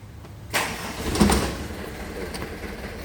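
A manual-transmission car's engine cranks and catches after a short quiet moment, then settles into a steady, close idle rumble.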